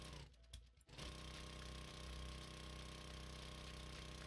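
A power auger drilling in the video game 7 Days to Die: a steady, dense mechanical buzzing drone that cuts out briefly and then restarts, running loud and continuous close up with no talk.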